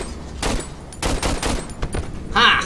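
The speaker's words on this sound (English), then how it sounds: "Burst fire will fire three successive rounds at an extremely fast rate." A military weapon in Cry of Fear fires in bursts, several sharp close shots spaced across the clip with a short ringing tail on the last burst.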